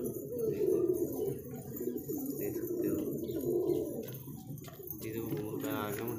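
Pigeons cooing nearby in a low, steady warble that carries on throughout at moderate loudness, with faint background noise.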